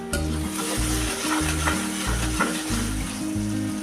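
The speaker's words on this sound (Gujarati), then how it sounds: "કુકરનું ઢાંકણ લઈ લઈશું અને હલાવીને જોઈ લઈશું" A spoon scrapes and stirs through corn rice in an opened pressure cooker with a soft sizzle, repeated strokes over a steady background hum.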